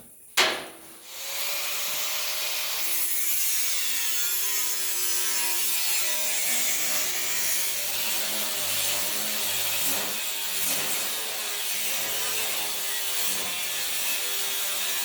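Cutting steel for a rusty 1948-54 Chevy truck door repair, one sharp start followed by a continuous loud, high grinding whine with slight wavering pitch, sustained throughout and close by, with no talk.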